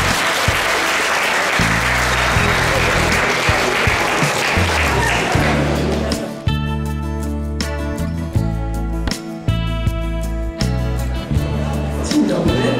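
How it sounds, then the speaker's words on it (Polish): Audience applause at a school farewell ceremony for eighth-grade classes, loud and dense at first, then carrying on beneath a piece of music that comes in about halfway. "Wielkie brawa"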